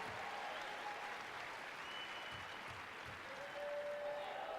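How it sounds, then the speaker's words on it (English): Crowd applauding during a women's college basketball game, UConn versus Houston on a cold night, a steady moderate ovation from the arena stands with faint whistles over it and some background voices. "nice ovation from the crowd who braved this cold weather"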